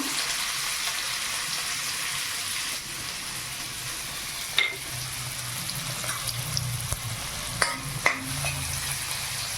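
Finely chopped onion and green chilli fry over a medium flame for shahi paneer, with a steady close sizzle and scattered sharp scrapes and clicks from stirring in the pan.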